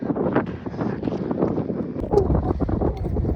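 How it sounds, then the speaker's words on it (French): Wind blows outdoors on a walk, a continuous loud rumble buffeting the microphone with gusty swells, with no talking. "Bon, il y a un peu de vent, hein."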